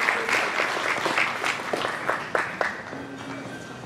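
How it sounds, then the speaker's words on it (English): An audience applauds after a vision-impaired open New Vogue dance final, a lively round of clapping with sharp individual claps near the mic that tapers off toward the end. "Big round of applause, ladies and gentlemen."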